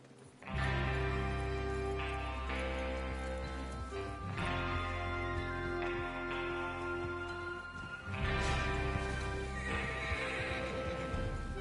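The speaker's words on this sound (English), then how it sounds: "Get your horses ready." Horses whinny loudly several times over a steady rumble in a PS4 video game, with hooves clopping along underneath.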